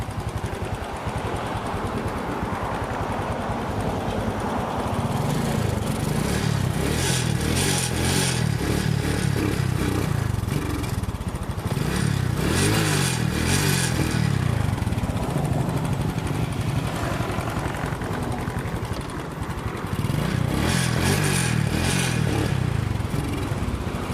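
An old Honda motorcycle engine starts up after sitting unused for about two weeks, then runs with a steady close-up rumble and clatter for over twenty seconds, with bursts of revving.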